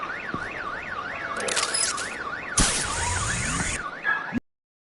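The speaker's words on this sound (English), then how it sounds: "My bat stunner would set off the car alarm." A car alarm in a Batman: The Enemy Within game scene whoops in a fast rising-and-falling pattern, joined by bursts of harsh noise and clatter, then cuts off abruptly into silence.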